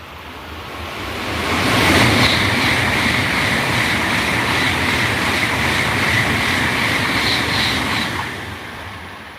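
A Shinkansen bullet train speeds through Shizuoka Station, a loud rushing roar that swells quickly, holds for several seconds with rhythmic rail clatter, then fades as it clears the platform.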